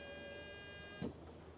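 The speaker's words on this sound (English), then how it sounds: "you'll hear a buzzer warn in the cab" A steady electronic warning buzzer sounds in the cab of a Pössl Roadstar 600L motorhome, alerting that the entry step is left out; a continuous tonal drone, fairly quiet, that cuts off abruptly.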